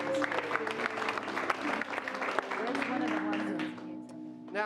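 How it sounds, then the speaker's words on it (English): An audience applauds improv comedy players as they come to the stage, a steady wash of clapping with some voices and talk mixed in, easing off near the end. "let's give the next 3 players a round of applause"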